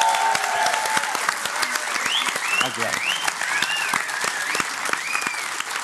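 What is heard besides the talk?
studio audience applause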